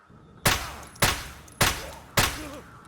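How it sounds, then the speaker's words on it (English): Four loud, evenly spaced 7.62x51 rifle shots ring out in Escape From Tarkov, each a sharp crack with a short decaying tail as rounds strike a Gen 4 Assault armor vest, with no talking. "So 4 shots on a Gen 4 Assault"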